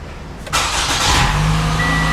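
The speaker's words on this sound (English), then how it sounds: "let's start the car." A Toyota car engine cranks and catches after a brief quiet moment, then settles into a steady close idle with a faint high whine.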